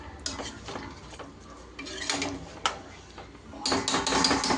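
Eggs being stirred in a cooking pan with shrimp, a utensil scraping and clinking against the pan in irregular bursts, with a light sizzle underneath and no talk.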